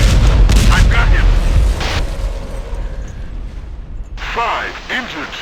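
Gunfire aimed at a BMP armored vehicle in the ArmA Cold War Crisis game: heavy booming blasts up front, then quieter mechanical rumble as a radio-style voice talks over the scene.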